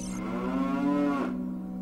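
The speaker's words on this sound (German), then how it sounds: "Was macht diese Kuh hier?" A cow in the video game The Legend of Zelda: Ocarina of Time lets out a single drawn-out synthesized moo of about a second and a half, clear and alone.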